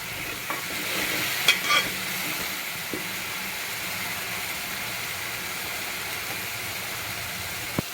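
Broad beans masala cooking in a pan, sizzling and frying steadily close by, with a few clinks and scraping stirs near the start and a soft hiss continuing throughout.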